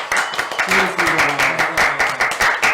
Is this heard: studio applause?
yes